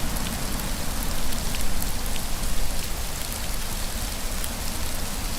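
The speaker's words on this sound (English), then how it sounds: "Sleeping through the rainstorm is awesome." Rainstorm in a video game, likely Rising World, a dense and continuous hiss of rain pattering on surfaces, loud and even from start to finish with no talking over it.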